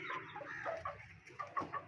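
A hen on a backyard aseel farm gives a few soft clucks amid busy, close farmyard chatter from other chickens, with irregular bursts rising toward the end.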